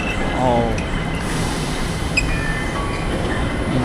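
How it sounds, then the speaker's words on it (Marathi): An airport air train shuttle rolls in at a passenger platform with a loud steady rumble and a faint brake squeal, while someone talks over it. "बघा ट्रेन आली, एअर ट्रेन"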